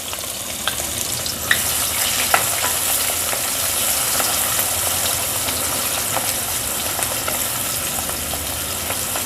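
Onions fry in hot oil with cumin and chillies, making a steady dense sizzle with occasional soft stirring clicks and crackles, close and even throughout; no talking.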